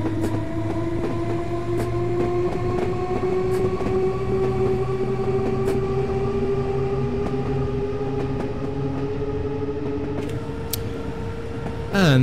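A London Underground C69 stock train departing in Train Simulator 2020: a steady traction motor whine that rises gradually in pitch over a low rolling rumble, with faint clicks and a burst of noise at the very end.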